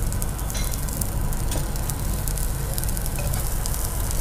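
Cauliflower florets fry in hot oil for a Gobhi Maharani dish, a steady, close, loud sizzle with crackling bubbles throughout and no speech.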